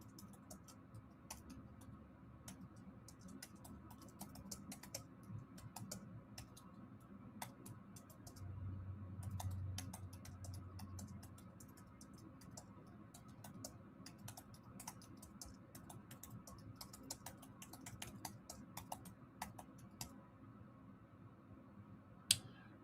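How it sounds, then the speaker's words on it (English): Quiet, close typing on a computer keyboard, a long run of irregular light key clicks with brief pauses, over faint room hum. "You guys are making me type tonight."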